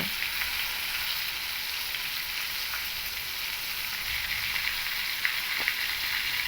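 Pointed gourd frying in oil, a constant close crackling sizzle with a few light pops and taps, no voices.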